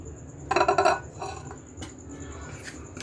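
Spoon clinking against a plate as fried rice is served at home, a quick cluster of bright metallic taps followed by a few softer scrapes and knocks, close and clear with no talking.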